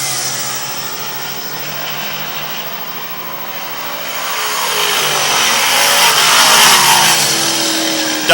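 358 modified race cars race around a track, their loud engine roar building and passing close by in a continuous rushing wash of sound.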